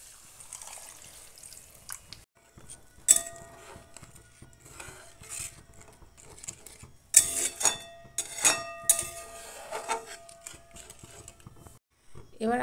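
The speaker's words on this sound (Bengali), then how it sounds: "দিয়ে দিচ্ছি এই মশলা ধোয়া জলটা" Spice-washing water goes into a pan of Kashmiri alur dom where the spices have released their oil, giving short bursts of splashing and sputtering between quiet gaps, with a few clinks of a utensil against the pan.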